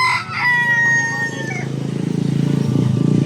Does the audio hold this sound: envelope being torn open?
no